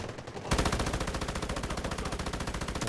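Rapid automatic gunfire from the mobile shooter game Delta Force: Hawk Ops, opening after a short pause into a loud, evenly spaced rattle of shots that continues to the end.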